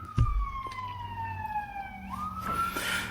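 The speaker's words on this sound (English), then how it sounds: "All right, that's the siren." A police siren wails from a passing vehicle, its long steady tone sliding downward as it moves by, then jumping into a faster, higher yelp near the end, with low road rumble underneath.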